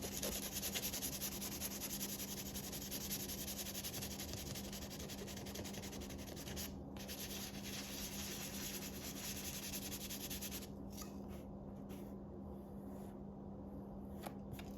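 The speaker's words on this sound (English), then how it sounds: "I'm going to use a little 500 grit sandpaper just to smooth it off" Fine 500 grit sandpaper rubs over a repaired leather seam on an ottoman, a close, quiet, continuous scratchy friction with brief pauses and strokes toward the end.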